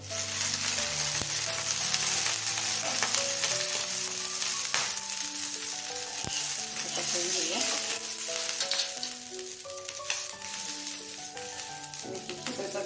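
Continuous loud sizzling hiss as water is sprinkled on a hot oiled dosa griddle over medium gas, with background music playing throughout.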